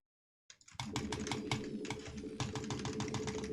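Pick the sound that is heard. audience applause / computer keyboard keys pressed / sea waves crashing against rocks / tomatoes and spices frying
computer keyboard keys pressed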